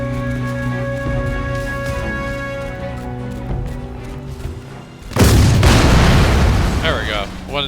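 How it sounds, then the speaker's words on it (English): A big explosion in the video game Crysis Remastered bursts in suddenly after a stretch of steady game music and ambience, a loud booming blast followed by a roaring, crackling tail. "I want to see the explosion."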